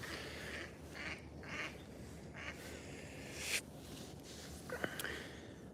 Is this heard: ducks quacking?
yes